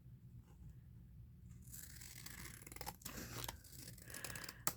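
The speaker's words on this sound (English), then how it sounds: "I'm going to just cut it like this." Scissors cut through an old paper envelope at close range. The crisp snipping and scraping is quiet and comes in short bursts, with no voices.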